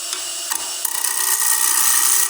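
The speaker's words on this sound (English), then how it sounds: "I'm using my bowl gouge" Bowl gouge cutting a pine bowl, turned from a 2x4, on a lathe: a steady, close scraping and hissing cut with a few brief catches early on, then continuous shaving noise.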